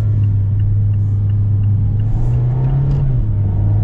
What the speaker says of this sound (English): Get some downshifts going on here.